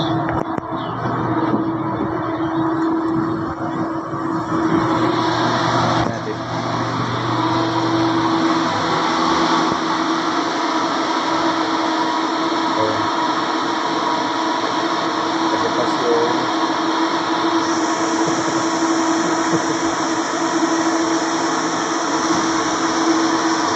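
A boat engine being worked on at a floating dock gives a loud, steady mechanical drone with a constant hum and rattling that runs the whole time without a break, and nobody speaks.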